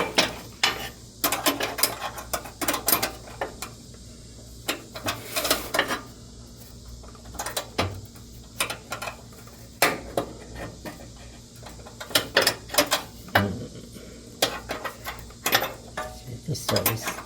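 A tube wrench works a brake line fitting on a 1965 Chevelle during a four-wheel disc brake conversion, producing irregular close metallic clicks and ratcheting taps spread across the whole stretch.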